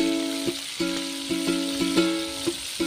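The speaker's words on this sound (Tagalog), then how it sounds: "fried whole chicken" A whole chicken deep frying in oil over a wood fire, a soft steady sizzle under a strong repeating tonal hum broken by regular clicks and bumps, fairly quiet and close.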